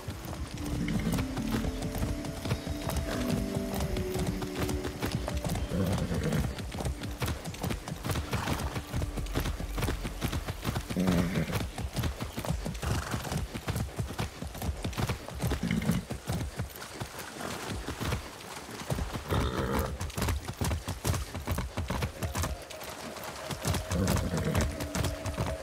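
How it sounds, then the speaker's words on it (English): Horse hooves beat in rapid, continuous clip-clop while galloping in the video game Far Cry 6, a dense, steady drumming held up front throughout with occasional brief tonal game sounds layered over it. "I haven't ridden a horse since basic training."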